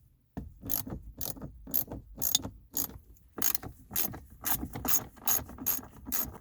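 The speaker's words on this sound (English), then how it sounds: "Now it's time to remove the 4 bolts around here." A hand ratchet cranks in quick, regular bursts of clicking while loosening bolts around the shifter of a Nissan R33 gearbox, close and clear with short pauses between strokes.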